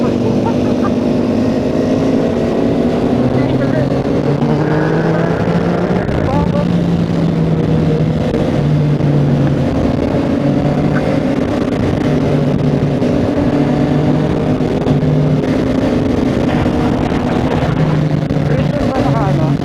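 Yamaha XSR900 motorcycle climbing uphill, engine droning steadily and loud throughout with wind rush, the rider talking over it.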